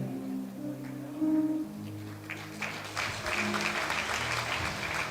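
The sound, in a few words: applause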